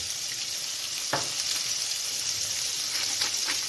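Salmon sizzles as it starts cooking in a pan with butter and oil, a steady close hiss of frying with a few brief louder crackles.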